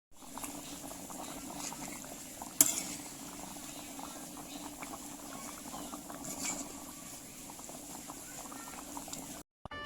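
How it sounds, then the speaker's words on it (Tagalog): A pot of chicken curry with sweet potato bubbles and simmers on the stove, a soft continuous boil with small pops and one sharper clink near the start. "Antayin kumulo"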